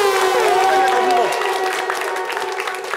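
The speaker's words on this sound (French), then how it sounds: "On peut l'applaudir très fort." Audience applause for a prize winner at a French-language show, a dense steady wash of clapping with a sustained tone and some voice sliding over it in the first half, continuing evenly to the end.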